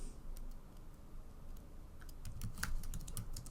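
Light keystrokes on a computer keyboard tap out a short label, beginning sparse and quickening into a denser flurry of close clicks toward the end, over faint room hum.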